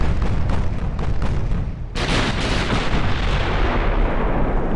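8-inch naval guns fire in the warship video game Ultimate Admiral: Dreadnoughts, a dense run of heavy booms and rolling blasts, with one sharp, louder salvo cutting in midway.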